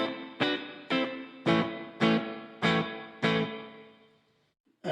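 A BOSS ME-50 guitar multi-effects unit on its room reverb setting: six strummed electric guitar chords in a steady rhythm, each with a short, subtle ambient tail, ending in near silence.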